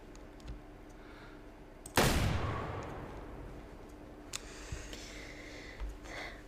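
A single loud hunting rifle shot in the game Way of the Hunter, a sharp blast that rolls off into a long fading echo, followed by faint scattered sounds.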